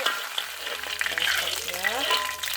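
Curry paste fries and sizzles in a pan for Tuaran noodles, a steady crackling hiss with soft stirring scrapes, and a voice talking quietly over the cooking.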